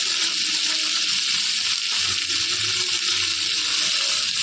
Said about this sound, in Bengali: এবার বরবটি বাটাটাও দিয়ে দিলাম। এটাকে ভালো করে ভেজে নেব।